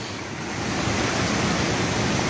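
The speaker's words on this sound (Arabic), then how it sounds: "الماء خارج من هاد الحجرة" Mountain spring water flows out from under a stone outdoors, a steady, close, broadband rushing and splashing that swells slightly after the first half second and then holds even, with no talk.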